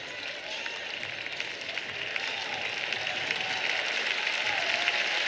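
Crowd at a college wrestling match at Iowa State, applauding in a steady wash of clapping that builds gently over several seconds, heard from within the arena without a clear voice on top.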